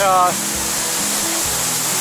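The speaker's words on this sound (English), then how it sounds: "Kind of a bit of a waterfall coming over the edge of the concrete" A small waterfall spilling over the edge of a concrete barrier at an old avalanche site near Wellington, Washington, giving a loud, steady rushing roar with a voice speaking over it.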